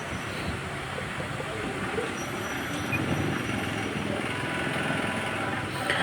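Steady rumbling and rattling from inside the Alexandria Raml tram as it rolls into Rushdy station, a continuous dense clatter of wheels and car body with a faint high squeal, loud and close throughout.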